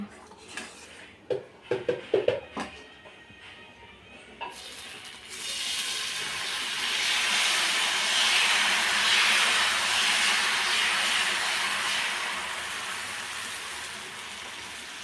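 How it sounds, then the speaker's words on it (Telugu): Ragi egg dosa batter poured onto a hot oiled pan: a few close metallic clanks of the pan and ladle come first, then a loud, sustained sizzling hiss that swells and slowly eases off. "దోశ పోసుకోవాలి చూడండి పోస్తా ఇప్పుడు దోశ"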